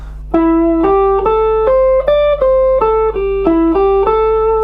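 A clean electric guitar plays a short pentatonic blues run of single notes, each plucked note ringing into the next at a steady pace, close and loud.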